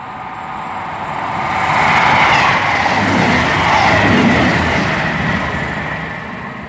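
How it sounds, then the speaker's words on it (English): CrossCountry passenger service from Edinburgh Waverley to Reading passing through Pangbourne station, a loud rushing roar of wheels on rails that swells and holds with faint squeals and clicks, then eases slightly as it moves on. "passing through now is a cross-country service from Edinburgh Waverley heading to Reading"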